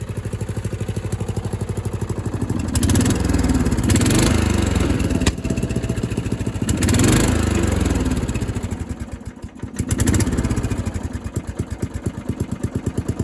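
Murray riding lawn mower engine idling low and steady with a rapid putter, revving up briefly a few times before settling back to idle, close and loud with no talk.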